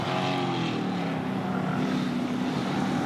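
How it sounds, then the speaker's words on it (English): A race car's loud engine note drops and rises through a quick heel-and-toe downshift on a track, roaring steadily over continuous motor noise with no voices. "You could just hear the engine note there as he heeled a toe."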